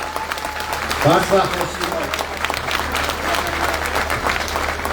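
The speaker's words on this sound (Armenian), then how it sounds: "Ես կցանկանայի Գրիգորյան Էմային այստեղ ծափահարություններով հրավիրենք" Crowd applause at a political rally in Gyumri, steady clapping from a gathered audience spread across the whole stretch, swelling briefly near the start, with a voice speaking over it through a loudspeaker.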